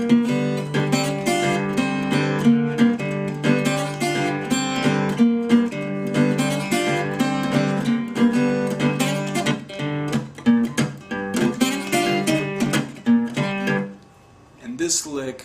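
Guitar break from a song, a dense driving blues riff with a repeating low bass figure and busy plucked accents, loud and close, thinning out near the end.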